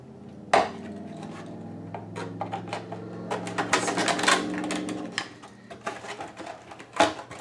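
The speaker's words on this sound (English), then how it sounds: "these are the wires that are just wired into the driver, so I'm just going to cut those." Wires running to the driver of a blown Yamaha DXS18XLF subwoofer being cut. Close, small snips and clicks of the cutters, with light handling clatter over a low background hum.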